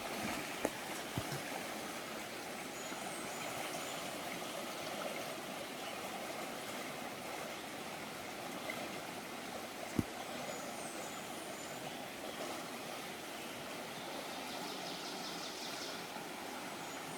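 A rushing mountain stream on the Appalachian Trail roars as a steady, close wash of water noise throughout, with a few faint knocks and no clear footsteps standing out.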